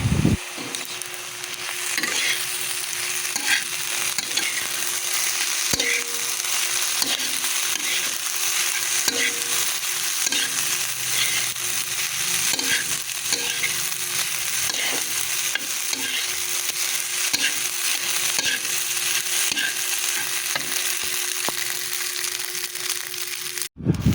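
Fried rice stir-fried with soy sauce in a pan gives a steady, close sizzle broken by repeated scraping and tossing strokes of a utensil, with no voices throughout.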